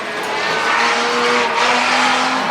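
Race cars in a forward-backward powder puff race drone past loudly, engines whining steadily with tire squeal and a rising pitch as they move around the track.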